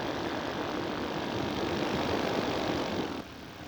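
A four-stroke paramotor engine runs steadily at about 4,500 RPM, a continuous even drone that holds level before dropping slightly in loudness near the end.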